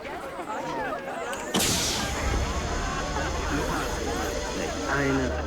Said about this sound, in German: Und jetzt ballert die. Eine Bombe dumme.